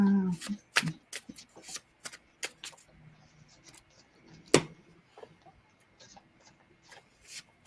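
Tarot cards shuffled by hand in a series of sharp, irregular riffles and snaps that fade into lighter rustles, close by and quiet between bursts.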